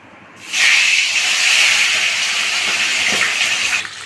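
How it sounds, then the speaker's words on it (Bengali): Bata fish dropped into very hot mustard oil set off a loud, steady sizzling hiss that starts abruptly and holds for several seconds before easing off. "এবার দেখুন আমি মাছগুলোকে একে একে তেলের মধ্যে ছেড়ে দিচ্ছি।"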